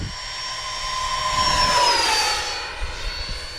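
A Freewing F-18 90mm electric ducted-fan RC jet on a 6000 Lipo makes a fast pass over a grass field, its loud turbine-like whine swelling as it nears and then dropping in pitch as it peels away into a steep turn.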